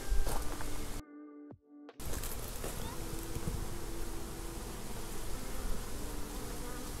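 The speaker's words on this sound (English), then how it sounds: "My bees are buzzing hard." Bees buzz hard in a dense, steady drone close by, briefly cut to near silence for a moment before the loud hum resumes.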